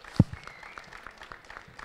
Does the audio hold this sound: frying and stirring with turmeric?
no